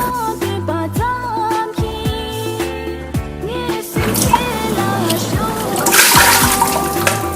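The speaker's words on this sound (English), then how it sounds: "I'm going to wash my dal" Dal lentils being washed in water, with splashing and sloshing that grows busier and louder partway through, over a steady tonal background.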